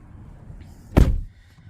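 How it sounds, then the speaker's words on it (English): A single solid thunk as a C7 Corvette Z51's car door is shut from inside, close and loud, with quiet interior ambience before and after. "let me close the door"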